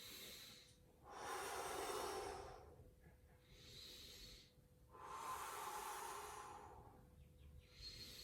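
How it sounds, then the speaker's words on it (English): A single slow, deep inhale through the nose during a stretching routine, a soft rushing breath sound heard close and alone, repeated as a second long breath later on. "Big breath in."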